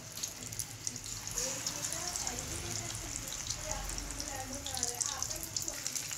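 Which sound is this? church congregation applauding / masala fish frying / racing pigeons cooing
masala fish frying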